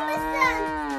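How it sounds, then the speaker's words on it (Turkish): A cow moos in one long, drawn-out call with a clear, steady tone that bends slightly in pitch, close and fairly loud, with nothing else over it. "Baba inek. İnek mi?"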